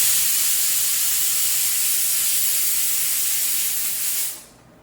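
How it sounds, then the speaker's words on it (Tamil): A pressure cooker on the stove vents a loud, steady steam whistle while mutton curry cooks, a continuous hiss that holds for about four seconds and then cuts off abruptly. "நம்ம குக்கர் விசில் போட்டுட்டு கரெக்டாக நான் வந்து 6 விசில் விட்டு"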